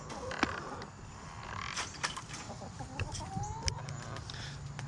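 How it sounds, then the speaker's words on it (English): Backyard chickens cluck and squawk in short bursts close by over steady low rumble, with occasional creaks and clatter. "Hey, chickens."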